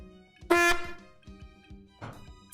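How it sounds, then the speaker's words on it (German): A horn toots in the Monkey Island SE video game, a short, loud tonal blast lasting about a quarter second, followed by quieter game sounds and a brief noisy burst near the end. "Achtung, Tröte!"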